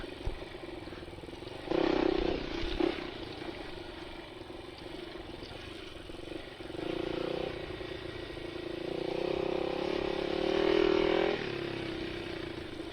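A trail motorcycle growls along a rough rocky trail, its engine swelling and easing as the throttle opens and closes, steady and fairly close, with rattles mixed in and no talking.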